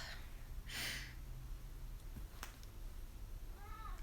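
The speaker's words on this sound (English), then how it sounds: "Do you guys hear my cat?" A pet cat indoors gives a short breathy sound early on and then a brief, faint meow near the end, set against quiet room noise with no talking.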